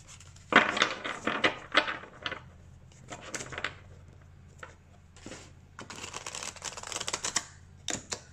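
Oracle cards reshuffled by hand for a guidance reading, giving close, uneven bursts of papery slapping and flicking with brief gaps, fairly loud and without speech.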